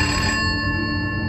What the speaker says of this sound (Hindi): तभी केबिन का लैंड फोन बजा